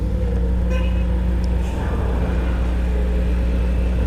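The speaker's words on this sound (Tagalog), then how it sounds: "Laking sasakyan" A large vehicle rumbles past on a road near San Mateo, Rizal, a steady loud engine drone filling the whole stretch with no talk over it.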